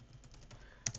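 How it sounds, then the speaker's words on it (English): Quiet keystrokes on a computer keyboard while entering Python code, a brief patter of soft taps followed by one sharper, louder click. "So we type in fluid material"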